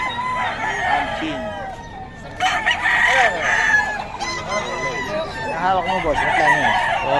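Gamefowl roosters crow repeatedly at a busy market, several loud calls overlapping with clucking and background voices of people talking.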